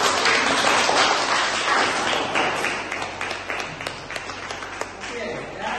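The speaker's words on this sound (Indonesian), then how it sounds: "Kita beri aplaus dulu." A classroom group gives a round of applause at the end of a lecture quiz. Dense clapping starts strong, then thins into scattered claps as it fades.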